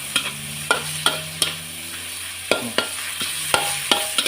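Pork stir-fries in a wok with a little sugar for a holy basil stir-fry: close, busy sizzling broken by sharp, repeated spatula clanks and scrapes against the metal at an irregular rhythm.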